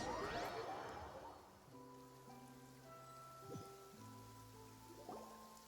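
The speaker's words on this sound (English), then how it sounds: "It's been raining non-stop for a few days now." Video game rain patters steadily in the background, a soft wash of falling drops with occasional drips, while sustained musical tones play over it; no one speaks.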